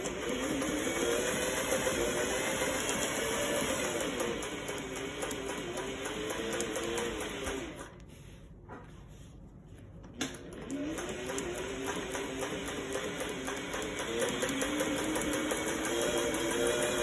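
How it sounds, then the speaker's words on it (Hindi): A sewing machine runs steadily, stitching a dori neck design on fabric. The motor hums continuously, pauses briefly midway, then resumes, close and alone with no talking. "उसके बाद हम अपने गले का गुलाई की डिज़ाइन की सिलाई लगाएंगे।"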